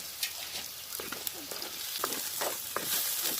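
Onions and green chillies frying in coconut oil, a soft continuous sizzle with scattered pops and crackles, close but fairly quiet, with occasional stirring scrapes.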